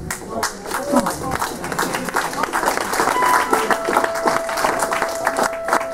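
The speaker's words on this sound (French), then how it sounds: "120e vernissage. Ça s'applaudit." Dense audience applause at an art exhibition opening in a gallery, a brisk sustained clapping that builds and holds steady, with a few voices and a tonal hum faintly beneath.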